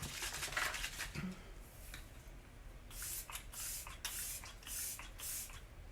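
Makeup finishing spray misted onto a face, a series of short hissing bursts, several quick sprays in a row after some quieter handling sounds, close and fairly soft.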